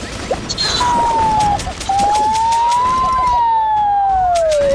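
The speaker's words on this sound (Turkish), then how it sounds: "ambulans oluyor bura" After a brief clatter, a thin electronic siren sounds a single slow wail, rising and falling, loud and near like a toy siren.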